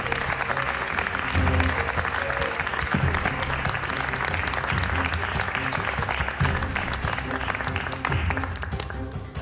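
Sustained audience applause fills a theater-like scene, steady and dense throughout, with a voice and some tapping faintly beneath the clapping.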